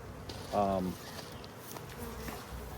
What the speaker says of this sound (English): A lot of bees compared to our hive.